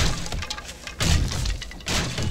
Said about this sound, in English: you can hear the broken glass